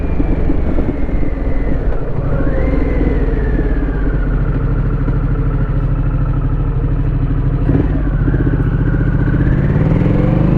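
Harley-Davidson Pan America motorcycle fitted with a Vance & Hines exhaust, riding on the road; a loud, steady engine drone with rising and falling revs and a constant rumbling exhaust note, heard close and uninterrupted.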